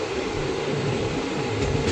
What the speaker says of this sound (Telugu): స్లోగానే వస్తుంది ట్రైన్ మాకు